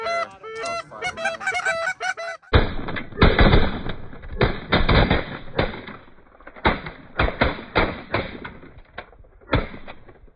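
Shotgun blasts ring out during an early-season Pennsylvania bird hunt after a burst of goose honking: a string of loud, close, irregularly spaced shots with brief gaps and faint voices between them.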